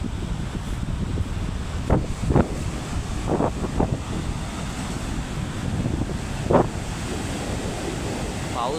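Rough, churning sea waves roll in under strong gusting wind on a rainy coastal day, a dense low rumble with periodic surges of surf and buffeting wind noise on the microphone.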